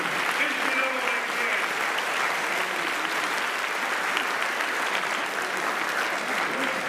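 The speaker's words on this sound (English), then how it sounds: "And cheer for those there, for the Denver Pioneer hockey" At a community band concert, an audience applauds and cheers for visitors from Colorado and the Denver Pioneers hockey team, a dense, steady wash of clapping sustained from start to finish.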